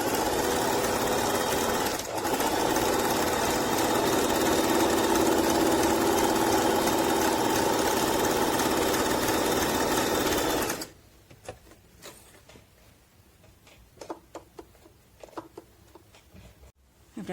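A Singer Talent 3321 sewing machine runs loud and steady for about eleven seconds, stitching decorative stitches, then stops, leaving faint scattered clicks and handling taps.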